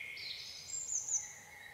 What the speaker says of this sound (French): au chant des oiseaux